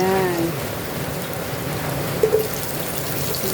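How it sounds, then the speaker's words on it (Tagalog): Heavy, steady rain pours down continuously during a typhoon in the Philippines, a dense unbroken hiss of drops drumming on surfaces with no voices over it. "Tuloy-tuloy naman ang ulan."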